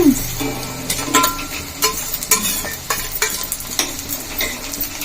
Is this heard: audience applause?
no